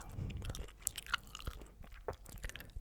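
Close, quiet gum chewing with soft wet clicks and crunchy smacks in an irregular rhythm, heard alone without talk.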